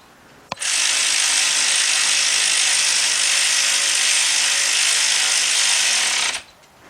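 A ratchet tightens a bolt on the rear brake caliper of a 2001 Ford Excursion 6.8, giving one loud, continuous buzzing clatter for about six seconds up close, with no voices.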